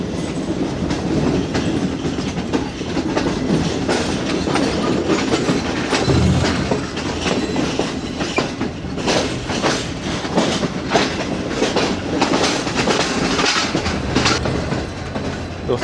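The Pak Business Express train runs on rails between Lahore and Karachi, a loud continuous rumble with rapid clickety-clack of the wheels and occasional sharp metallic knocks, heard steadily with no talk.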